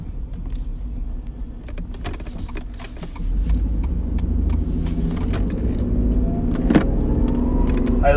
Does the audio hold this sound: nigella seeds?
no